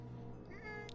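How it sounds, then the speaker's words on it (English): A cat meows once in the video game Call of Cthulhu, a short rising call heard over steady background game ambience. "Cat."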